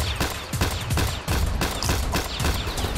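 Loud, close gunfire in a Roblox hood New York roleplay game, a dense string of rapid shots in several bursts with short gaps, filling the whole stretch with no talk over it.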